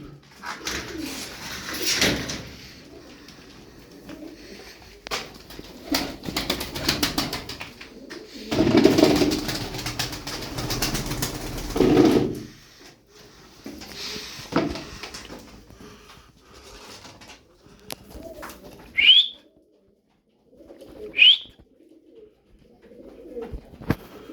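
About thirteen tumbler pigeons coo softly in a loft, with rustling wing flaps and shuffling between the calls; a couple of sharper chirps stand out near the end.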